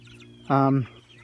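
A single short, loud, nasal cluck or squawk from a Cornish cross meat chicken rings out close by for about a third of a second over a faint background.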